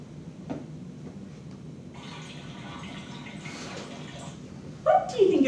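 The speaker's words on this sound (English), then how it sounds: "What do you think is making that noise? A faucet." Water runs steadily from a tap with a soft, continuous hiss, and a voice briefly speaks at the end.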